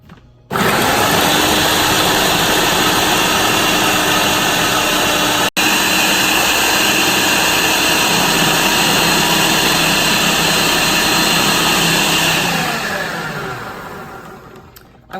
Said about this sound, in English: They're in my food processor. I'm not gonna add anything else to this yet. We're just gonna grind this up.